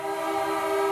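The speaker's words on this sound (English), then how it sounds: "Sorry about the train. I can't control the train." Passing train with a sustained horn: one loud, steady horn tone holds for the full second against a rumbling background, close and dominant.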